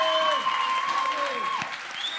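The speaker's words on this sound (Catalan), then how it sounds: "Un aplaudiment!" An audience claps at a prize-giving at a Catalan blogging event, with soft, brief applause under voices that carry over it.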